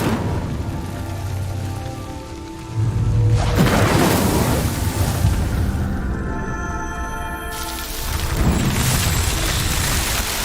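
An Incendio fire spell cast in Hogwarts Legacy, a sudden loud whooshing burst of crackling flame that erupts, holds, then flares again later over a low musical backdrop.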